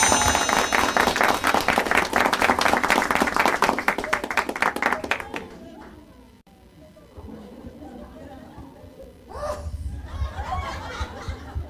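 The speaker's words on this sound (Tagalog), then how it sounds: "May palakpak yan!" Loud crowd applause with laughter for about five seconds, then fades into murmuring chatter before a brief second burst of clapping and laughter.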